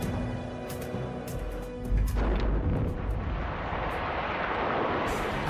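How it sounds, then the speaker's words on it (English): Mine explosives are fired in a single blast to loosen ore, with a sudden deep boom followed by a broad, sustained rumble and crumbling roar that stays loud to the end. "This is a 1-minute blast warning. Firing the hole for one shot."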